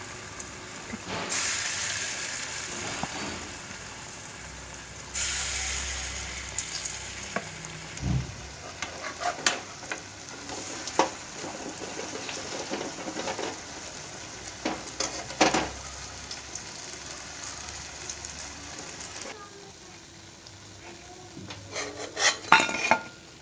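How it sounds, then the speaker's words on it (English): Steady sizzling of sweet pakoras frying in hot oil, with occasional clinks and scrapes of a utensil against the pan. "Now just frying them."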